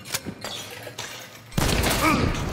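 Video game gunfire comes as a few sharp scattered shots, then a dense loud burst of rapid fire, with a voice speaking briefly between them.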